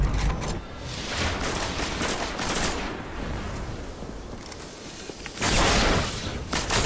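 Gunfire in the video game Destiny, played as a Warlock on Xbox One: a steady stream of rapid shots and crackling bursts, fairly quiet, swelling into a louder, denser volley near the end.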